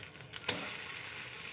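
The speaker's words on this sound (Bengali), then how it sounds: "ডিম ভাজা করছি।" An egg fries in a pan with a steady, close, even sizzle throughout, broken only by a brief click near the start; no one talks.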